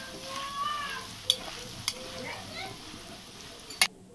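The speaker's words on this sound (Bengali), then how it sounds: "এবার আমি আলুগুলিকে লালচে করে ভেজে নেব কিছুক্ষণ সময় নিয়ে।" Potatoes sizzle in oil in a pan with turmeric and salt, giving a soft, steady frying hiss. A few sharp clinks come from stirring, and a faint voice is heard in the background.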